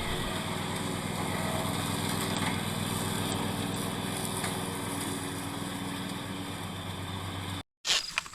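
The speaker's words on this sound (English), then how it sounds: "the landowner took care of the grass with his good old John Deere" An old John Deere tractor mows grass, its engine droning in a steady, even hum at moderate distance, then cutting out abruptly near the end before a few brief knocks.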